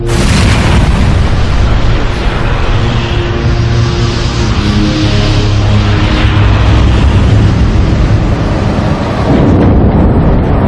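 A massive, roaring blast that fills everything as an A380 jet engine is destroyed in a blade-off test, sustained and thunderous with rumbling low end, slowly easing before a final surge near the end.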